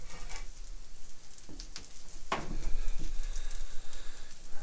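A cabbage, onion and carrot omelet frying on a black stone griddle gives a soft, steady sizzle, broken by a few sharp scraping or tapping clicks from a utensil partway through.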